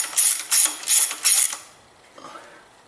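Four quick bursts of ratchet clicking as 10 mm bolts and nuts come loose from the upper intake cover on a 2000 Acura 3.2 TL, close and crisp, then a faint metallic clink as the tool settles.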